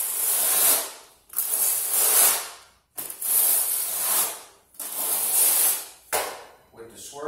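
A trowel drags tile mortar across a floor in five long scraping passes, loud gritty hissing strokes close by, each separated by a short pause, with no talking.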